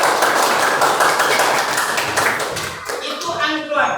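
Classroom pupils clapping together after a coding lesson activity, a loud, fairly rhythmic burst of many small hands that thins out toward the end with voices mixed in.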